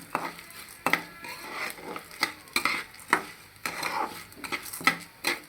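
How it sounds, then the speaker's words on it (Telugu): Cumin seeds fry in a pan while a spoon stirs them, giving repeated scraping strokes with clinks against the metal over a low sizzle, close and alone. "దోరగా వేగిన తర్వాత జీలకర్ర వేసి ఇలా కలబెడుతూ ఉండాలి మాడిపోకుండా"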